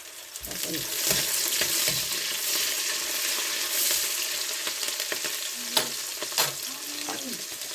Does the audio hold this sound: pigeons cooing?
no